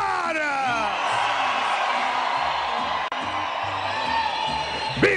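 A boxing arena crowd at a WBC women's bantamweight title fight roars continuously with cheers, whoops and screams, loud and dense throughout, with an announcer-like voice rising over the noise.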